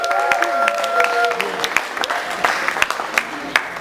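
Wedding guests applaud at a combined civil and religious marriage ceremony, a dense, steady patter of many hands clapping close by, with some faint voices and tones mixed in.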